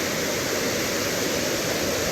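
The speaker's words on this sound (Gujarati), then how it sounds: "આ બધું ઉપરથી આવે પાણી છે ને" Rushing floodwater roars down from upstream in a constant, loud wash of noise, like a torrent flowing close by during heavy rain in Junagadh, with no voices.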